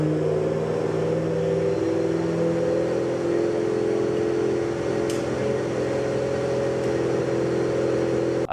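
A drift car engine holds a steady, loud, droning idle with a constant hum, heard close with no revving swells or talk over it.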